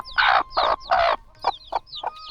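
Chickens in a rural village courtyard, among goats and ducks, let out a run of about eight close, loud clucks in a quick irregular rhythm.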